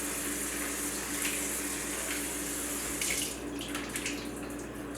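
Tap water running steadily into a sink while pho rice noodles are rinsed of starch, a constant close hiss and splash with brief shifts in the flow as the noodles are moved.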